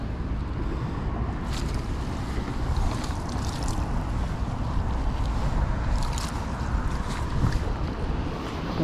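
Strong wind buffets the microphone steadily beside a boat at sea, with waves and water wash underneath and brief gusty swells, no talk.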